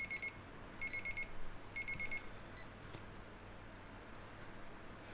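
A countdown timer in Returns Outlet Simulator beeps in three quick bursts of rapid high electronic pips over a low hum, then stops, leaving faint background noise.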